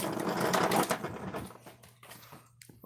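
An extension motor on a grill rotisserie gives a steady low mechanical hum under louder clattering and rattling noise close by, which fades toward the end.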